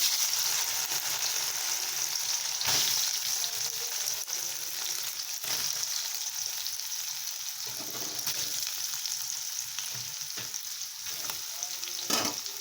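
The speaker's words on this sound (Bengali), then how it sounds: "আর এখানে তেলটা গরম হয়ে গেছে, এখন আমি ভেজে নেব" Boiled soybean chunks fry in hot oil, giving a continuous close sizzle with bursts of crackling and a few sharp clatters of stirring spread across the stretch, no voices over it.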